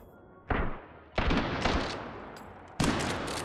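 Loud, close gunshots from a firearm in the VR game Hot Dogs, Horseshoes & Hand Grenades: three sharp separate blasts, each with a decaying tail, fired at uneven intervals.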